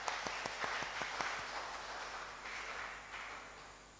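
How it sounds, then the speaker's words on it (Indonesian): An audience in a church gives a short burst of clapping, sharp claps at first that thin out and fade within a few seconds. "Tepuk tangan dulu Jenderal."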